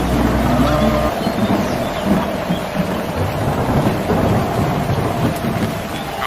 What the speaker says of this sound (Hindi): अरे बारिश आने